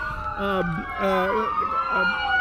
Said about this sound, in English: the sirens are so loud right now